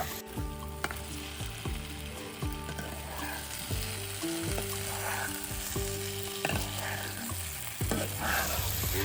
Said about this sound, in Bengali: এবার আলু আর পটল দিয়ে একটু কষে নেব